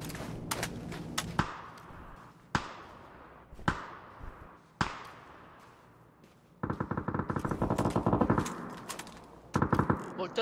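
Gunfire in an online ranked video game match: several sharp single shots in the first half, then sustained rapid automatic bursts, with a voice talking over the action.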